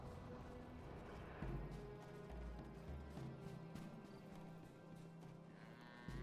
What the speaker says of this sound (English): What's going on with these cows?